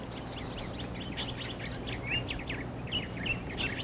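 Taiwan blue magpies in disturbed forest near human habitation give a run of harsh, scratchy calls and chirps, repeated irregularly over a faint background hiss.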